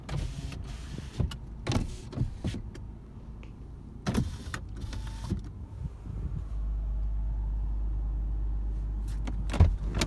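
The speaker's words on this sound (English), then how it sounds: "power windows, power locks. All the windows work as they should." Electric power windows of a 2008 Toyota 4Runner SR5 whir up and down several times in short motorized bursts, close by, with a few faint clicks between runs.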